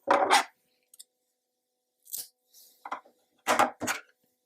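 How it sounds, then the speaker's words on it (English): Scissors snip through yarn in several short, crisp cuts, isolated bursts separated by silence, close and fairly quiet. "Once you've made your chain, go ahead and cut your yarn."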